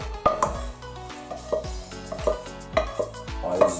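Smoked raw bacon going into a pot of sauerkraut cabbage soup, with repeated clanks of a utensil against the pot and soft stirring in between, at a moderate, close distance.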